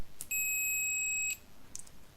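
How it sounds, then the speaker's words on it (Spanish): A Kaise MY64 digital multimeter gives a continuity-test beep: one clear, steady high-pitched tone lasting about a second, bracketed by two tiny clicks from the probes touching, close and alone in a quiet room. "al haber continuidad tiene que sonar un pitido"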